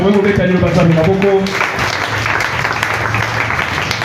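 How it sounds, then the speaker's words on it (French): Applause breaks out from a church congregation during a Bible teaching, a dense crowd of clapping that follows a voice and continues steadily. "Est-ce qu'on peut acclamer pour la parole de Dieu?"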